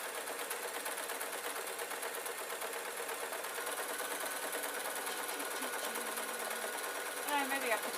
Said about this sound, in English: now I am sewing a long line down with the seam allowance that I've given myself